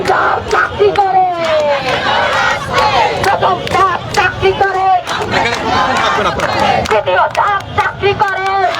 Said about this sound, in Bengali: আমরা একটু একজনের কথা শোনার চেষ্টা করব যিনি এখানে স্লোগান দিচ্ছেন